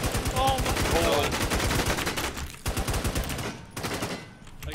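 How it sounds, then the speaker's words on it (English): Rapid gunfire from the zombie survival shooter Infestation NewZ, dense bursts of automatic shots crackling loudly and continuously, with a short break partway, under a player's voice. "I got shot at from everywhere."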